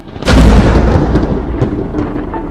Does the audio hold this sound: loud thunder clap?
yes